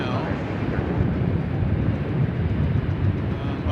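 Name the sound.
MD-11 airliner lining up for takeoff at DFW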